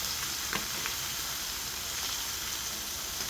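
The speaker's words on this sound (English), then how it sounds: "And the sizzling means that it's cooking." Meat frying in a pan with coconut oil gives a steady, soft sizzle with faint crackles throughout, heard alone.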